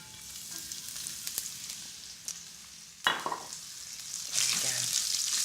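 Green beans hit hot oil with cumin seeds and sizzle loudly after a quiet start, then a louder frying hiss swells near the end as they are stirred.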